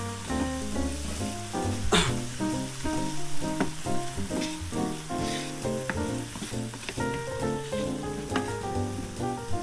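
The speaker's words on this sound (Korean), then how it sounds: "중불 정도 해서 볶아주세요" Garlic and bell pepper stir-frying in a pan over medium heat. Oil sizzles steadily and close, with repeated clacks and scrapes of stirring throughout.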